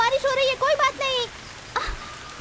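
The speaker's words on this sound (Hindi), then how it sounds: "अरे बारिश हो रही है" Steady rain hisses in the background under a voice speaking close by, the even wash continuing after she stops.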